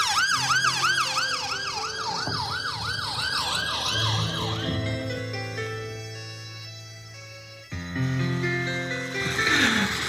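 A police car siren wails loudly and close as it arrives at a staged road traffic collision rescue display at the Eastbourne 999 Show. The rapid rising-and-falling wail gives way to lower steady tones, then a sudden louder burst near the end.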